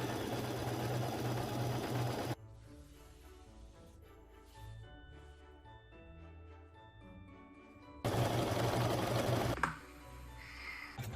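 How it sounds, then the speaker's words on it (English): Fabric strips for a quilt pass through a sewing machine in two short, close whirring runs, with quiet music playing in the gap between them. "I sew on 4 more strips in the same way."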